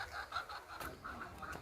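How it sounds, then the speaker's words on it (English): An English game bantam hen gives soft, repeated clucks at a bird park, faint and steady with a light rhythmic pattern over low background noise. "This is English game bantam."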